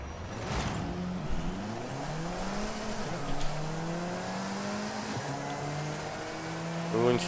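A 2014 Alfa Romeo 4C at full throttle in Forza Horizon, its engine droning steadily with rising revs and gear changes through a race, while a voice talks over it faintly.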